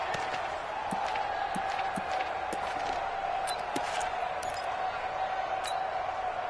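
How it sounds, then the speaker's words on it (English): A steady crowd roar fills a stadium in an American football video game, building ahead of a big third down, a continuous wash of cheering with faint scattered sharp clicks. "The crowd getting into it as we come up on a big third down."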